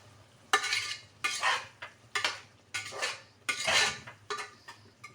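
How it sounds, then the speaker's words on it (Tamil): Mushrooms are stirred through a gravy in a pan, giving about seven close, scraping spoon strokes in an uneven rhythm, with quiet gaps between them. "அந்த கிரேவியோடு அதையும் வதக்கினா தான் கொஞ்சம் நல்லாயிருக்கும்"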